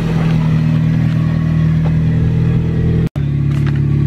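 A slammed EK hatchback car engine drones steadily and loudly up close. It cuts out for an instant and then carries on, with no speech over it.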